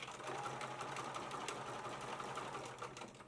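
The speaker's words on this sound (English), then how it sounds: "I'm going to sew diagonally for the X." A sewing machine runs steadily, stitching a diagonal line across a tote bag panel, with a close, even motor whir and rapid needle chatter throughout, no talking.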